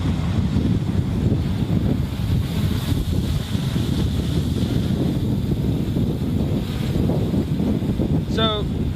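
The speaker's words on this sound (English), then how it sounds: "you can see it's pretty windy out here" Gusty wind buffeting the microphone outdoors, a constant low roaring rumble with rising and falling gusts, a voice talking underneath and a short whistling chirp near the end.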